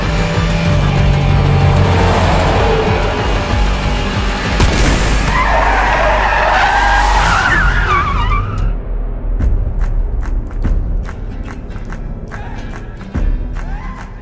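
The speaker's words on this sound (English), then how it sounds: "I just thought that was such a great idea to see car chases on the Autobahn." Cars race in a chase on the Autobahn, with a loud engine roar and a long tire skid, followed by a string of sharp thuds and crashes as the roar fades away.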